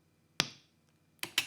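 A short click of an impulse response wave file for a guitar cabinet, played three times: one sharp click with a brief ringing tail, then two more close together near the end, alone against near silence.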